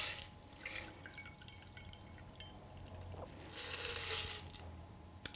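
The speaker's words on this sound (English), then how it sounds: "we're just going to pour it into our cocktail glass." Lemon martini poured from a mixing glass into a large martini glass: a quiet trickle and dripping of liquid that swells near the end, heard close with no talk.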